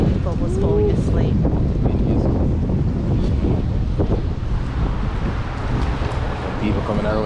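Cold wind gusts along a Melbourne street and buffets the microphone with a constant low roar, while people talk close by.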